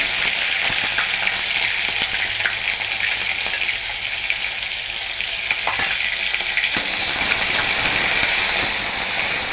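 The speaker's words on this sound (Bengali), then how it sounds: "পেঁয়াজ পেস্ট করাটা ভাজা ভাজা মতন হয়ে গেছে" Onion paste sizzling steadily as it fries in a pan with cloves and cinnamon, with soft scraping stirs now and then, close and continuous with no talk.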